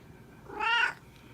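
A cat gives a single short, clear meow at close range against a quiet room background.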